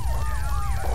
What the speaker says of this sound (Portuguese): Olha lá, o helicóptero.